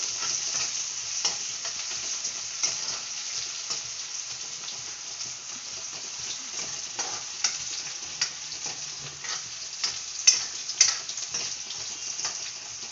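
Onions frying in oil in a home kitchen pan, a steady close sizzle with soft stirring clicks and scrapes throughout, no voices.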